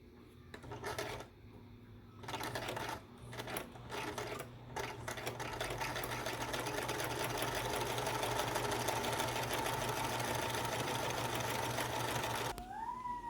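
A sewing machine chain-stitches cloth masks one after another, starting in short stop-start bursts, then settling into a long, continuous mechanical whir before stopping near the end.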